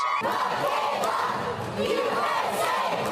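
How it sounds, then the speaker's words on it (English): Supporters of an Olympic athlete cheer at a homecoming welcome in Arizona, a dense, steady crowd roar with shouts rising throughout, close and loud with no clear gaps. "While Michaela Skinner's supporters were cheering in Arizona"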